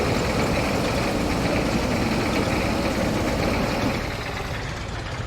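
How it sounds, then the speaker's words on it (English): Old tractor engine idling steadily in the Farming Simulator 22 game, a dense continuous low rumble that holds even and loud before easing slightly toward the end, with no talk over it. "Keep our tractor running."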